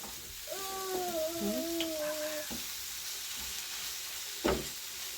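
Eggs and spinach stew is stirred in a pan with a soft, low sizzle and occasional scraping, while a cat meows a few times early on.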